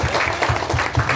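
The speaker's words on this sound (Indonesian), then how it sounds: "Tepuk tangan dong." Brief burst of audience applause at a Pemuda Batak Bersatu gathering, steady clapping filling the short moment at fairly close range with no talk over it.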